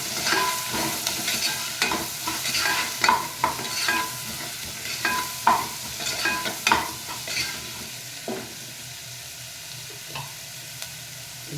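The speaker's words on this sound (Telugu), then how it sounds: "రెండు నిమిషాలు అట్లా వేగనే సిమ్లో పెడదాం" Tomato curry with onions sizzles in a pan while being stirred, soft continuous frying hiss broken by repeated scraping strokes of the spoon, close and fairly quiet with no talk.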